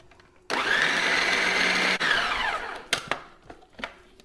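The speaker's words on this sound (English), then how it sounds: "All I have to do is blitz it till finely chopped." A food processor blitzes kale and fresh mint with a loud, steady high whirr for about two seconds, briefly dipping midway, then winds down into a few light knocks and taps.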